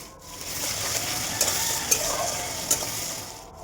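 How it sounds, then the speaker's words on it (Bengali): Chopped tomatoes with green chilli sizzle in a hot pan while being stirred, a steady frying hiss broken by a few soft scrapes and taps of the spoon. "এবার একটু লাল লাল করে ভেজে নেব"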